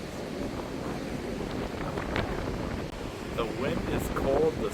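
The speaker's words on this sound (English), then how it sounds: "Look at those waves crashing and breaking." Ocean surf rolls and breaks on a sandy beach lined with small tents on a hot sunny day, a steady broad wash of waves mixed with wind buffeting the microphone.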